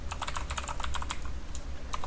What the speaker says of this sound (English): I have to go ahead and type out the code for you guys